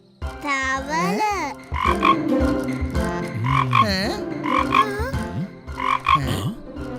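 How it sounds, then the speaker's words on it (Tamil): Cartoon frog croaking in a Tamil children's cartoon, a series of loud, warbling croaks repeated several times over a steady music bed, close and prominent. "தவளை வந்தது, மழையும் வந்தது."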